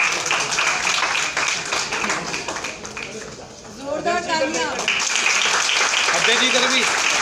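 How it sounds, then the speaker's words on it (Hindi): Loud applause and clapping at a Delhi Pradesh Congress executive meeting, sustained across the moment with a brief dip, while a voice speaks over it through the middle. "जोरदार तालियां।"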